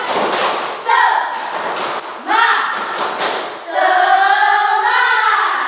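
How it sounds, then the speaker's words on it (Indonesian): Students in a classroom perform a 'tepuk semangat' clapping chant, loud rhythmic claps and thumps alternating with their chanted voices in bursts. "Kalau sudah semangat, Ibu mau lihat dulu tepuk semangatnya."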